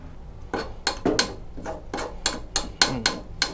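Champignon mushroom gills scraped out with a spoon, heard as a series of about ten short, sharp scraping strokes at a steady rhythm, close and fairly clear, with no talking.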